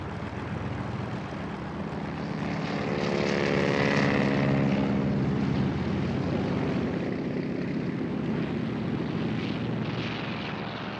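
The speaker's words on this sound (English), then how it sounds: "the Japanese fast attack force of 183 aircraft began taking off" Propeller aircraft of a Japanese attack force take off in a December 7th Pearl Harbor-era reenactment, with a steady droning engine roar that swells and stays loud through the clip, with no talk over it.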